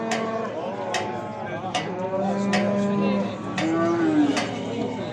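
A calf lows repeatedly at a busy livestock market in Beylagan, several drawn-out moos of varying pitch over constant background crowd noise and chatter.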